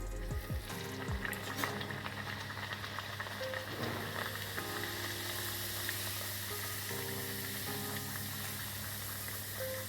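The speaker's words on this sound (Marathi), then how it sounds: "तेल तापलेलं आहे आपण तळायला घेऊया पुरी" Steady sizzling and bubbling of moong dal masala puris frying in hot oil, close and continuous with a constant crackle and occasional louder spatters.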